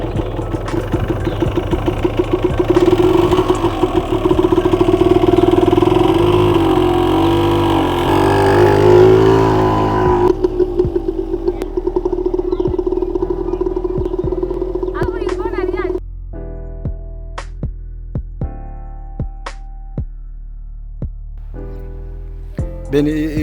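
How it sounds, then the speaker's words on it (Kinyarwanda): A motorcycle engine runs steadily nearby as a gear is engaged and the clutch is eased out. The hum is loud at first, then drops to a lower, quieter idle, with talk over it. "namaze gushyiramo vitesse, warangiza ukagenda urekura amburiyage gake gakeya moto"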